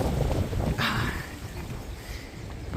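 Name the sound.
strong wind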